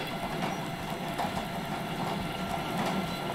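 A farm vehicle's engine in Landwirtschafts-Simulator 19 idles as a steady, moderately loud rumble with no talk over it.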